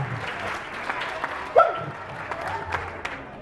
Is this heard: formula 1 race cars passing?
no